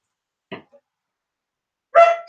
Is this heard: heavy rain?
no